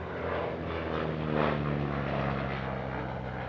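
Propeller aircraft, a Boomerang fighter replica built mostly from T6 Harvard parts, droning steadily with a piston engine hum at an airshow, heard at a moderate distance without speech.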